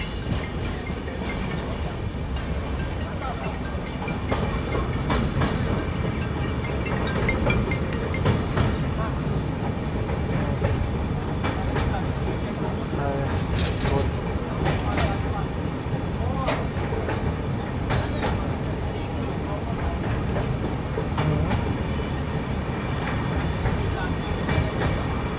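An Intercity Express train runs through Pune yard, with steady rumble and repeated clickety-clack of wheels over rail joints, heard from aboard the train at an even volume throughout.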